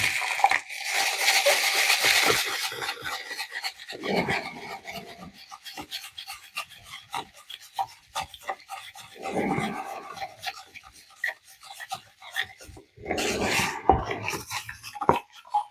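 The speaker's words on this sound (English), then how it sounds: "you just want to kind of keep stirring like crazy" Rapid scraping and rasping of a tongue depressor stirring a crystal mixture in a container, vigorous and continuous at first, then fading into scattered scrapes and short bursts.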